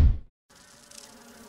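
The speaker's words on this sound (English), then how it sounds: "Okay, bees. It's the bee hallway." Bees buzzing in a hallway in the Resident Evil 1 Remastered video game, a steady droning insect hum that begins after a short silence, after a brief low thud, with no talk.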